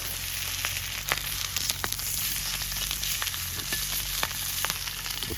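Food sizzling hard in a frying pan over a strong campfire on wooded mountain land, a dense, loud, steady crackle with scattered pops and a low rumble underneath, no talk.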